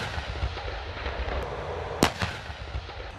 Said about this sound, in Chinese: 坦克分队各车组要在规定的时间内完成原地射击和行进间射击两个科目